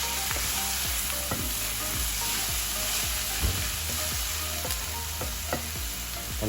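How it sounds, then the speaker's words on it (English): Onions frying in a pan for a prawn thokku, with a steady sizzle under repeated scraping stirs of a spatula knocking against the pan roughly every half second, close and continuous. "onions actually take quite a while to actually get roasted"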